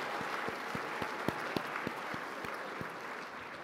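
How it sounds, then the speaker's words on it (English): Audience applause for the winning team of an engineering competition, steady dense clapping from a crowd indoors with a few sharper claps standing out, no talking. "So let's just give one more round of applause to that team"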